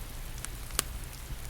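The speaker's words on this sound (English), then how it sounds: "it's cold here, and windy. The rain is going sideways." Faint steady rain pattering on a surface with a low wind rumble underneath and a few sharper drip taps, on high, isolated Skellig Michael island, Ireland, in cold sideways rain.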